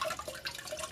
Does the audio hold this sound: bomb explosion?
no